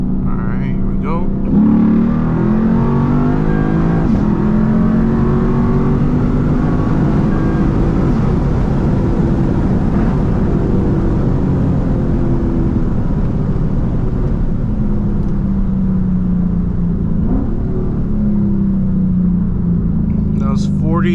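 A Lexus ISF V8 running E30 fuel pulls hard from a 40 mph roll, its loud engine note climbing steadily through the gears for about twenty seconds, up close and continuous, with brief shift dips.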